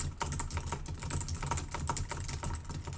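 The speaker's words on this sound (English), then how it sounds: "So now what I can do is I can start typing in here." Rapid, irregular clicks of typing on a computer keyboard, close and fairly quiet, with a steady run of keystrokes and no talking.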